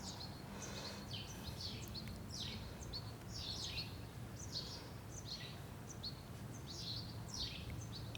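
Several birds sing and chirp continuously at a distance, their bright calls layered over a soft, steady background hum.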